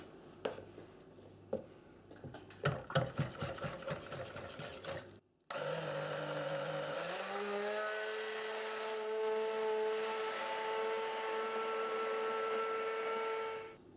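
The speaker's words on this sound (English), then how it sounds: "I'm going to move on to the stick blender and just use the stick blender to make sure that they're really nicely incorporated in" After a few clanks and taps, a stick blender whirs steadily in a container of soap oils, mixing in indigo and kaolin clay. It runs close and continuous, its pitch rising briefly as it settles, then cuts off.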